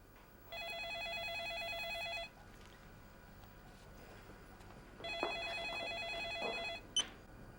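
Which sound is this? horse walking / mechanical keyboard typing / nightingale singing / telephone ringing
telephone ringing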